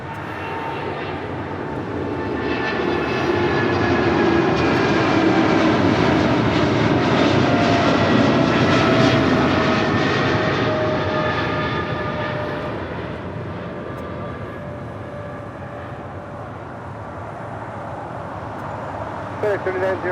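An airliner departs Los Angeles International Airport, its jet engine roar swelling loudly, peaking, then slowly fading as it climbs away, with occasional voices beneath it.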